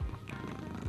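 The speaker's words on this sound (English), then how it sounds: "I don't know if you can tell, but he's purring" A pet cat purrs close to the microphone, a soft low rumbling vibration pulsing steadily for under a second, fairly quiet against faint background noise with no talking.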